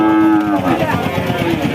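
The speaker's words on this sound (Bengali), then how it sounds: "একটা কুরাজ জাতের বাছুর দেখতে পাচ্ছি" A Kuraj breed calf at a busy cattle market lets out a single loud, close moo lasting under two seconds, with faint crowd murmur behind it.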